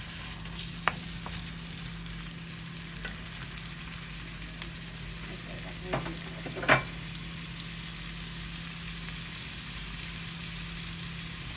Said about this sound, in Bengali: চিংড়ি মাছটা বন্ধুরা ভাজা হয়ে গেছে।